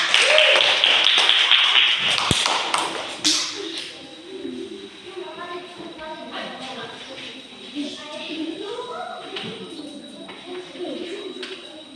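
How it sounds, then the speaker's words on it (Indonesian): Children in a classroom clap together in a brief, dense burst of applause lasting a few seconds, then it fades into quieter room sounds and voices talking. "Bagus, tepuk tangan."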